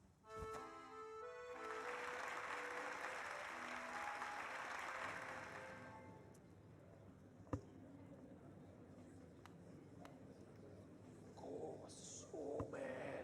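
Crowd applause in the Hollow Knight video game swells from a quiet start and holds steady and loud for several seconds, then fades into quieter ambience with a few clicks and soft rustles.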